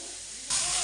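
Onions frying in a pan for a soya gravy, a dense hissing sizzle that jumps abruptly louder halfway through and continues close and steady.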